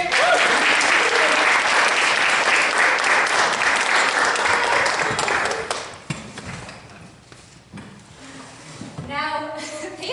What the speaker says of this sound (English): Clap hands for them while they go and sit